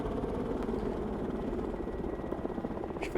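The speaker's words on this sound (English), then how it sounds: "The helicopter can't get any closer without risking detection" A helicopter in the game Broken Arrow makes a steady, droning rotor hum with a constant mid-level whir, moderately loud and unbroken. A short sharp noise comes at the very end.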